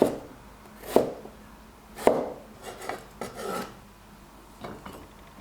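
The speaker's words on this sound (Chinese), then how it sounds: "半根胡萝卜，先切厚片，再切宽条。" Half a carrot cut with a knife into thick slices and then wide strips while preparing kimbap: four or five crisp, separate chops spaced about a second apart, close and fairly quiet, with light rasping scrapes between them and no talking.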